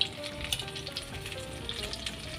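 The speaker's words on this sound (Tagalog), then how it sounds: "Ang eggplant no, pag niluluto mo siya, kung ano ba, bumubula-bula bitaw siya no?" Eggplant frying in a pan, a close, steady sizzle with small popping bubbles and crackles throughout, no voices.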